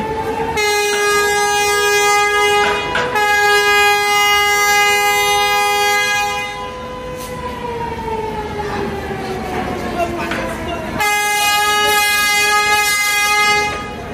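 Passenger launch Kuakata 2 sounds a long, loud multi-tone horn as it departs at speed, the blast holding steady, sliding lower, pausing briefly, then sounding again over engine rumble.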